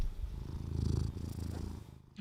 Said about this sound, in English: There's some purrs for you, Savvy.